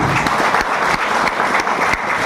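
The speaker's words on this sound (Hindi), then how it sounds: "तो एक बार मेरे गुरुजी मिस्टर कन्हैया सर के लिए जोरदार तालियां थी।" A crowd at an AWPL achiever celebration applauds Mr. Kanhaiya, the guru, with dense, steady clapping that fills the whole stretch at high volume, without any voices rising above it.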